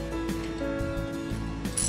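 A torque wrench ratchets on an Arimitsu pump's bolts, producing quiet mechanical clicks and short gear-like ticks at close range with no talk.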